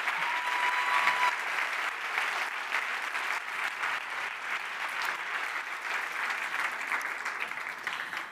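An audience applauds steadily and loudly for several seconds at a university science talk final, a dense wash of clapping that holds without fading.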